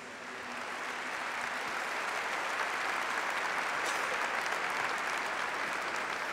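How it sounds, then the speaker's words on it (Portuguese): A church congregation breaks into applause, a dense steady clapping that swells within the first second and carries on evenly to the end. "Vamos aplaudir a palavra de Deus."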